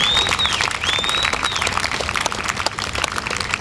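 A crowd at an outdoor medical marijuana rally in Altoona, Pennsylvania, claps loudly and thickly, with a couple of rising whistles cutting through the dense applause.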